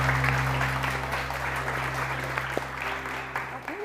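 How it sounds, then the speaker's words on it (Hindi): Applause from a studio audience on a Hindi-language TV morning show, a steady clapping wash over a low hum, fairly loud and continuous for the whole stretch. "बहुत सारी तालियां डॉक्टर मुज़ना इब्राहिम के लिए, बहुत सारी तालियां।"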